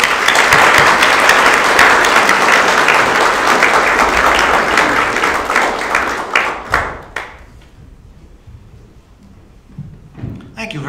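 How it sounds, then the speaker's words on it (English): An audience applauds to welcome speaker Scott Montgomery at a Seattle Friends of Fission talk on nuclear energy, loud sustained clapping that thins into scattered claps and dies out, followed by quiet room noise. "Please join me in a warm round of applause for Scott Montgomery."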